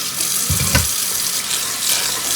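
Leafy greens are washed one by one under a running kitchen tap, giving a steady, close rush of water with brief splashy changes as the leaves pass through the stream.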